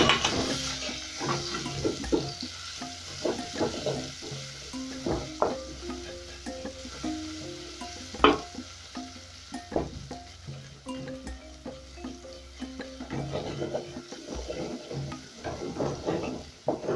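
Garlic and onions fry in a pot for pilau, a steady close sizzle with stirring scrapes and clinks of a utensil against the pot throughout, and no voices.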